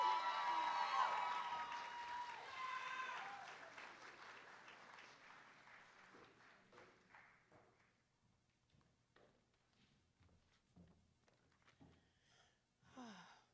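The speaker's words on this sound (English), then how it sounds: "Please give her a big round of applause." An audience at a Latine achievement ceremony applauds warmly. The clapping starts fairly loud, then thins out and fades into scattered claps and quiet room noise.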